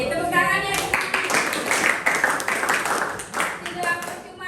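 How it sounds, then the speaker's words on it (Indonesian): A classroom group claps their hands, uneven bursts of clapping mixed with voices talking over it. "Oke, tepuk tangannya."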